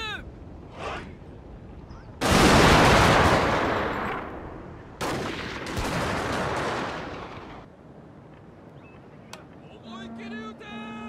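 Gunfire in a video game: two long, loud bursts of rapid automatic fire, each lasting a few seconds and separated by a brief gap, followed by quieter sounds and a short stretch of speech near the end.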